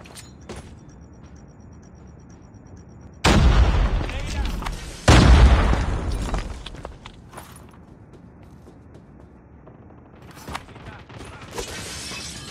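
Gunfire bursts from Call of Duty Mobile during a search-and-destroy round, two loud dense volleys back to back mid-clip over a quieter background of footsteps and small game noises.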